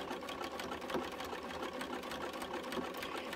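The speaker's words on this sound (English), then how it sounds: "I'm going slow with my stitching to try and get it nice and straight" Sewing machine stitching slowly and steadily along a zipper pocket on a hip bag, a continuous quiet rhythmic whir and patter, close, with no voices.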